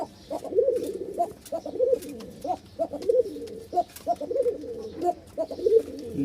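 Pigeons in a breeding coop give repeated deep, throaty cooing calls in rhythmic bursts, close and fairly loud, with faint background chirps.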